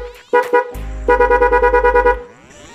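A motorcycle's dual horn, wired with an interrupter relay, honks loudly up close: two short blasts, then a fast pulsing burst of about a dozen rapid toots lasting over a second, with no talk.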